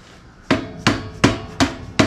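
Five evenly spaced sharp metallic hammer strikes drive a locking pin into a dropped front axle on a 1927 Ford Model T Touring hot rod, each blow loud and close with quiet gaps between.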